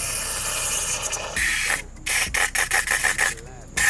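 Penetrating fluid sprays from an aerosol can onto a lug nut in a steady hiss, then breaks into several short bursts with brief pauses between them, close up.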